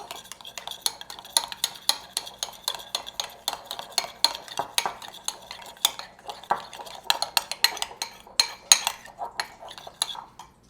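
Garlic, anchovy, lemon and oil are mixed in a bowl for braised lamb shanks, a quick irregular clatter of a utensil scraping and clinking against the bowl, close and continuous.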